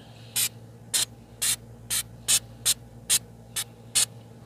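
Nine short, sharp hisses of a spray bottle spraying cleaner onto drum lugs in a quick, even rhythm, close and clear over a quiet room.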